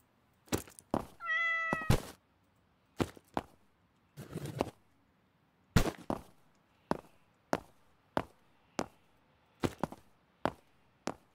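A cat in the game Computer Repair Shop gives a rising meow among a series of sharp, evenly spaced knocks and thuds, all close and crisp with silence in between.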